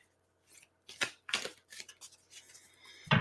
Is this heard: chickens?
no